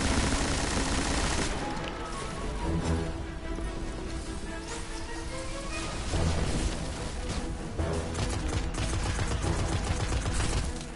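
Rapid rifle fire in the video game Destiny: The Taken King, dense crackling bursts of shots one after another over about ten seconds, loud and close.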